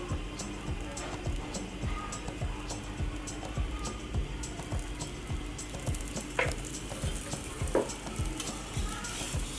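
Lachha paratha frying in ghee on a hot tawa, a steady close sizzle with soft rhythmic scraping and turning strokes and a couple of brief clinks.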